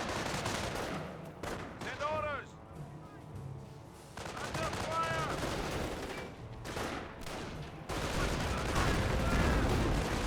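Bursts of gunfire from a strafing run in the World War II strategy game Company of Heroes, with dense rapid firing and whistling sweeps. It stays loud and continuous throughout, under a busy battlefield mix.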